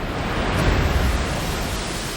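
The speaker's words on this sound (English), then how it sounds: "The massive impact sends water surging 60 feet into the air." Water surges in a dense, continuous roaring wash after a six-story hotel tips over and crashes into a river, a steady loud rush with no distinct impacts.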